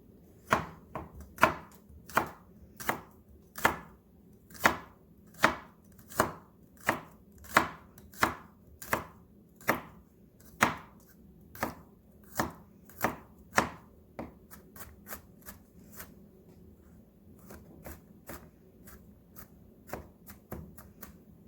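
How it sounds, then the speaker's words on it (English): Garlic being finely chopped with a knife on a board for a vegan Panang curry, a long run of crisp, evenly spaced knife taps that speed up into quicker, lighter strokes toward the end. "The garlic, of course, you want to finely chop that."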